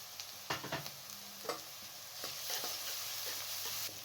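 Cumin and fennel seeds hit hot oil with spices for spiced achari potatoes, giving a soft sizzle with scattered sharp clinks and scrapes of a spoon stirring, quiet and close.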